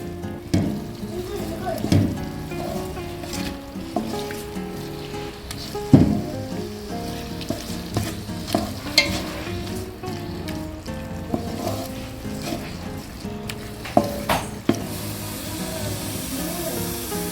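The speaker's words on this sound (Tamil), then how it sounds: "உப்பு சேர்த்து தக்காளி நல்லா வதக்கிங்க." Tomatoes with salt sauté in a pan for mutton dum biryani, giving a continuous sizzle with intermittent stirring scrapes and clacks, while a voice talks faintly at times.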